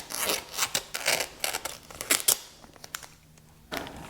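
Scissors snip through packaging during assembly of a Flex Fit Dexley mesh office chair from Union & Scale, giving a string of close, short cutting and crinkling bursts with a brief pause before a final snip.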